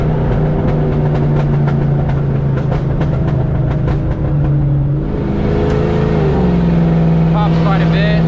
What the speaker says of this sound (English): Try to get some of the pops on camera.